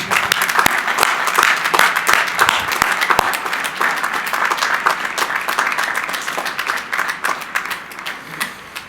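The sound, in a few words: applause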